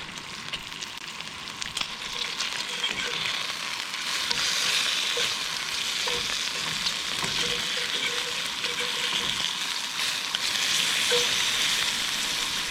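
Bacon in a cast iron skillet over a campsite fire gives a continuous, even hiss of fat frying, held for several seconds at moderate loudness with no voices.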